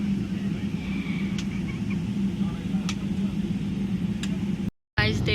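A passenger plane cabin in flight after leaving London, with a steady low engine hum and airflow roar throughout, ending with a short cut and a voice.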